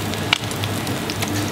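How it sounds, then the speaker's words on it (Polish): Breaded pork cutlets fry in a pan with a steady, close crackling sizzle and scattered sharp pops, heard alone without talk. "I tak smażę."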